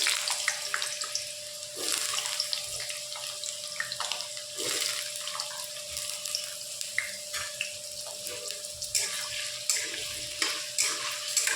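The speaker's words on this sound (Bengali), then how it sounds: "এবার আমরা আলুটা লাল করে একটু ভেজে নেব" Potato pieces frying in oil with whole cinnamon, clove and cardamom, a steady sizzle with intermittent scraping and stirring of the pan, close and continuous with no talking.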